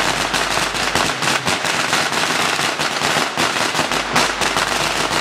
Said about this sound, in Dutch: Dan een hele rits met vuurwerk hangt er en knalt achter elkaar